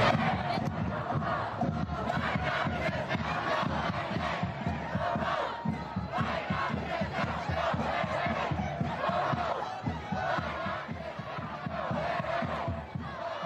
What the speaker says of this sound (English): That was the response the crowd in Pennsylvania gave Joe.